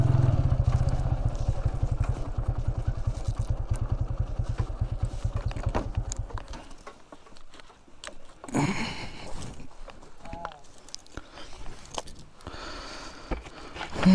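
A motorcycle idles with a rapid low putter for about six seconds and then cuts off. It is being parked near a waterfall entrance. Clatter and handling noises follow in the quiet, with a few short voice sounds.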